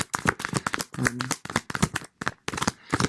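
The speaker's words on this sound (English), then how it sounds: "So we're gonna keep shuffling a little bit." Tarot cards are shuffled in quick riffling bursts, a series of sharp, crackling flurries separated by short pauses, close up.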